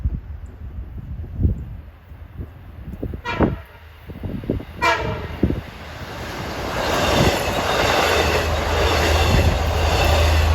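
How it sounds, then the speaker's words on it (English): An LIRR Speonk–Jamaica local train approaches trackside near Patchogue, sounding two short horn blasts before its rumble swells into a loud, steady roar as it passes close by. "It's a Speonk Jamaica train, makes local stops to Babylon, then Jamaica."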